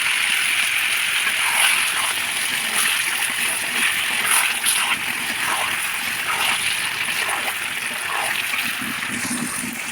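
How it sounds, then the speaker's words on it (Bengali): Water is poured into a pan of meat cooking in spices, giving a steady hissing splash and bubbling sizzle that holds at a constant level close by, with no talk. "একটুখানি জল দিয়ে দিলাম।"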